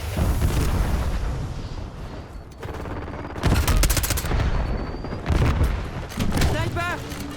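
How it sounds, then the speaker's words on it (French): A flash grenade is thrown during a hardcore Call of Duty match on Nuketown, amid loud close bursts of gunfire and blasts, with game voice lines heard over the din. "J'envoie une grenade flash."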